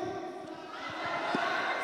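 At a fight event's weigh-in and press conference, a crowd shouts a brief chant together, rough and moderately loud, with a few thumping beats underneath.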